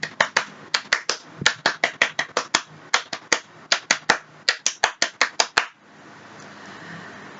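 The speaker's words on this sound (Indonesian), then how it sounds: "Dua kali tepuk pramuka." Rhythmic Pramuka scout clapping done twice, a fast patterned series of sharp, close hand claps in a steady beat that stops abruptly, followed by quiet room noise.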